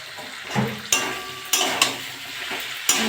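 Prawn and plantain sautéing with ground cumin, coriander and salt in a pan, a steady sizzle broken by several sharp scrapes and knocks of a spoon stirring against the metal, close and alone.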